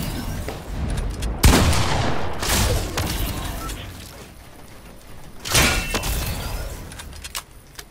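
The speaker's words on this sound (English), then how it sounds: "Oh my god, I'm being impact-naded" Impact grenades go off in Fortnite as two sharp, heavy blasts about four seconds apart, each a loud broadband burst that fades into a rumbling tail, with scattered smaller cracks around them and no talking.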